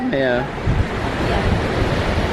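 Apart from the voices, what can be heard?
sea waves and wind at sea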